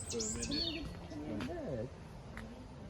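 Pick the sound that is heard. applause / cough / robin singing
robin singing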